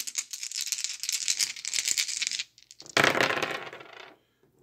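Dice for a Strat-O-Matic baseball game rattle and clatter across a hard surface, first in a long rolling stretch and then in a second sharp burst, close up and loud, with no voices.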